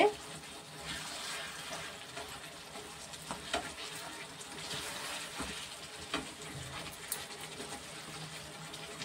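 Kadai chicken sizzles in a pan while being stirred, a soft steady frying hiss with faint scraping, and a voice talks now and then over it.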